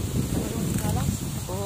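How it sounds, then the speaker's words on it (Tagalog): Strong wind buffets an outdoor spot beside a tilapia fishing area, a steady loud roar and rumble of gusts against the microphone throughout, with faint voices underneath. "Oo nga, lakas ng hangin."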